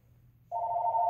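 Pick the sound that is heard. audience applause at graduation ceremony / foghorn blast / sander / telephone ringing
telephone ringing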